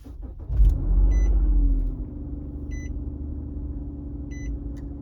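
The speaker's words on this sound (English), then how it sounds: "So what you want to do, start the car." A Nissan car started up: a brief starter crank, then a swelling engine rumble that settles into a steady idle, with faint repeated dashboard beeps, close by and without talk.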